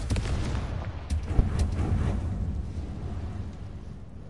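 A Confringo blasting spell fires in Hogwarts Legacy, several dull booming bursts and thuds in quick succession over a low rumbling bed, fading into a softer roar.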